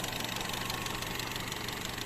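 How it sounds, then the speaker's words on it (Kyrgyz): A 2016 Skoda Rapid with a 1.6 engine and manual gearbox idles with a steady, even mid-pitched hum and light mechanical ticking, heard close up with no talk. "Мотору жакшы иштеп турат"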